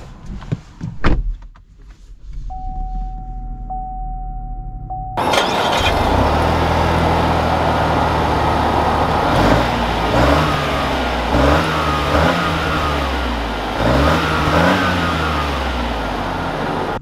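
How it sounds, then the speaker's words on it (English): A 2021 Chevy Trailblazer Activ SUV starts up and drives off. A door thuds shut, then a steady chime sounds, and the engine catches and runs in a loud, close cabin drone, rising and falling with several revving accelerations. "let's take this Trailblazer Activ out and see how it drives"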